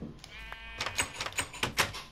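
A Minecraft sheep bleats in a short series of nasal, wavering calls that grow louder toward the end, close and clear, with no one speaking over them.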